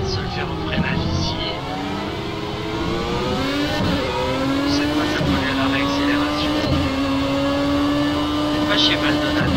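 In the Project Cars racing video game, a race car's engine whines loudly and steadily, then its pitch drops as the car brakes and shifts, with other engine tones layered underneath.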